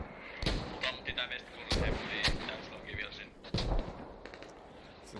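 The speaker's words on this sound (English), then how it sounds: "Mortars are already out. Nice mortars." Several mortar rounds firing and landing in a military video game, heavy booming thumps at irregular intervals, mixed with faint distant clatter and a voice talking over the action.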